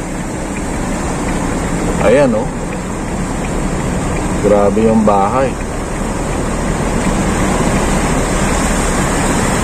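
Floodwater rushes continuously during typhoon flooding in Oriental Mindoro, a steady broadband roar with someone talking briefly over it.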